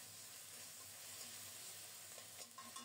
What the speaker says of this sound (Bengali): এখন বাটা মশলাটা দিয়ে দিলাম। মশলাটাকে ভালোভাবে কষিয়ে নেব।